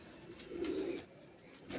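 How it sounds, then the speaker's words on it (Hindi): A dub-breed pigeon held in a man's hand on a rooftop coos once, a soft low throaty coo close by in a quiet outdoor setting, with faint background noise. "ये देखें जी आप कबूतर आपके सामने, चेयरमैन साहब के हाथ में है कबूतर।"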